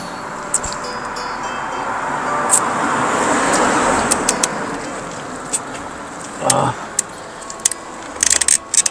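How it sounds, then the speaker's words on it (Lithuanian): Cars pass cyclists on a narrow road in Spain, a vehicle approaching and swelling to a broad rumble close by, then fading, with clicks, rattles and brief talking around it. "Tai turi pravažiuoti pirmą mašinos."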